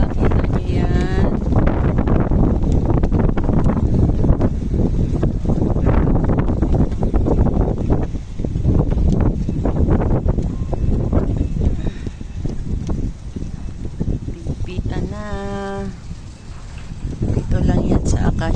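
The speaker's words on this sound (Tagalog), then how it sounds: "Pero ang lakas ng hangin" Strong gusts buffet the microphone at Acacia Park while kites fly, a loud, rough rumbling wind roar that surges and eases throughout, with people talking now and then beneath it.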